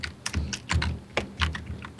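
Typing on a computer keyboard while chatting during a Minecraft parkour game, a quick irregular run of soft key clicks, close and quiet with no talk.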